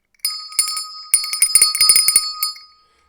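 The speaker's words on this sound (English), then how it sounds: "Here's the physical bell that I will ring." A handheld physical bell rung repeatedly, bright ringing tones: a few spaced single strikes, then a quick cluster of rapid rings before fading out, loud and close with no talk.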